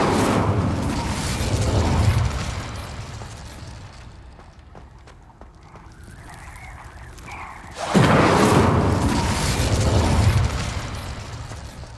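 Spell explosions from Confringo and Incendio in Hogwarts Legacy: a loud burst of fiery roaring noise, a quieter lull in the middle, then a second strong blast near the end with a sustained crackling rumble.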